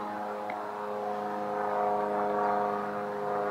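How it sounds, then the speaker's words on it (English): An airplane flying overhead near Lake Taneycomo by the Table Rock Lake dam, a steady droning engine hum that swells slightly and then fades, heard alone without voices. "there's a plane up there"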